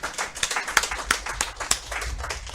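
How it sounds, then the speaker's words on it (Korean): Attendees at a party meeting clap, a brisk, uneven patter of hands from a modest group, fairly close and loud, with no speech over it. "우리 모두 당 대표님께 힘내시라는 의미에서 큰 박수 부탁드리겠습니다"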